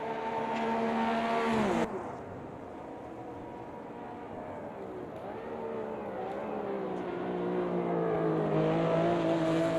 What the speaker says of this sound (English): we look at a couple of Porsches coming down here in towards the Ascari chicane